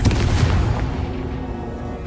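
The Confringo fire spell in Hogwarts Legacy explodes as a loud, booming blast at the start, then its rumble slowly decays and trails off over about two seconds.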